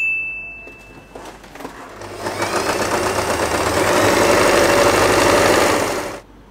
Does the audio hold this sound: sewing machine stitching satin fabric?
yes